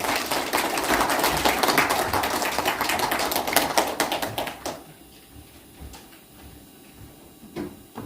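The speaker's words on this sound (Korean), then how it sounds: "여러분 큰 박수 부탁드립니다." An audience claps at a book launch celebrating a collected edition of sijo poetry, with a brisk, dense patter of hands. It stops abruptly about halfway through, leaving a quiet room with a few stray sounds.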